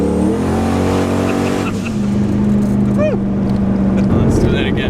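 A 1000-horsepower turbocharged Trans Am WS6 revs and accelerates from inside the car, its loud engine drone rising and shifting in pitch as people talk over it.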